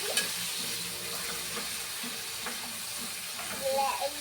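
Soft sizzle and hiss of sauce being stirred in a frying pan, with faint scraping strokes and a brief louder stir near the end, fairly quiet throughout.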